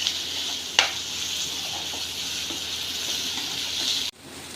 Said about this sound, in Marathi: कांदा चांगला लालसर होईपर्यंत परतून घ्यायचा